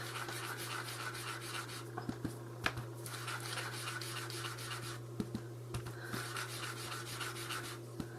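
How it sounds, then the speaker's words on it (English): Sponge dabbing Memento Cantaloupe ink onto cardstock held in a die template, a soft continuous rubbing and scuffing with a few light taps, close and quiet over a steady low background hum. "I'll just begin sponging with the cardstock still in the die template."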